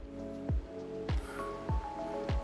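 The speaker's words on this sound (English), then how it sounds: "Just adding water." Water is added to a pressure test rig sealed with O-rings, making a series of close, soft gulping splashes that recur roughly every half second over a low background hum.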